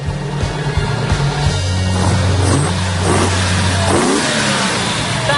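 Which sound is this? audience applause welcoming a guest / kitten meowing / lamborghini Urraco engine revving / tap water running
lamborghini Urraco engine revving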